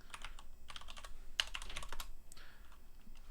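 Someone types on a computer keyboard during a livestream, irregular bursts of clicky keystrokes with short pauses between flurries, close and moderately soft, with no talking.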